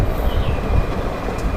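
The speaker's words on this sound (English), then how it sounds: "It is a red color train and around the tree garden" A small red train circles a tree garden, giving off a steady, close rumbling and rattling noise with no voices over it.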